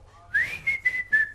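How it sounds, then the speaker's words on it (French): A preacher gives a short run of loud whistles, a rising swoop followed by three sharp bursts in quick succession, close and clear with no talking over them. "il va siffler très fort"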